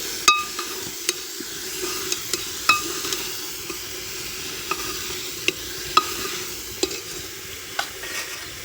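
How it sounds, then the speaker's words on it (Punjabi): A ladle stirs grated radish in a hot pan, a steady soft sizzle punctuated by regular sharp metallic clinks and scrapes against the pan, close and without talk. "ਤੇ ਨਾਲ ਨਾਲ ਆਪਾਂ ਕੜਛੀ ਦੀ ਹੈਲਪ ਦੇ ਨਾਲ ਮਿਕਸ ਕਰਦੇ ਰਵਾਂਗੇ"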